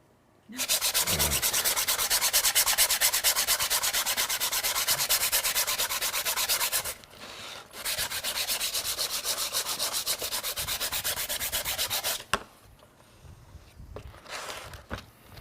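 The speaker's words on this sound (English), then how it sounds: "Sand off your bulgy bit." A 3D-printed proton pack part is sanded by hand in long, steady, close rasping strokes, with a brief pause and then quieter handling noises at the end.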